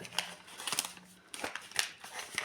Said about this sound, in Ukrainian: Оцей пакетик дуже класно відкривається